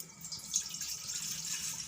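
Lukewarm water pours into a cooking pot in a home kitchen, a soft steady trickle and splash that runs throughout, quiet and close with no talking.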